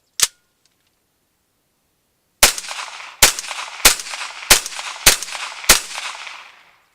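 A CZ Scorpion Evo firing 124 grain hollow points at steel targets: one isolated crack, a pause, then six loud, sharp shots in a fairly even rhythm, each with a short ringing tail.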